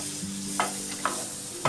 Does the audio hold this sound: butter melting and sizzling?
yes